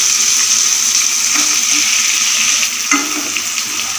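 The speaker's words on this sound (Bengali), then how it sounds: "এরপর আমি আলুগুলো দিয়ে" Potatoes fry in hot oil with spices, producing a loud, constant close sizzle with a few faint stirring scrapes and no voices.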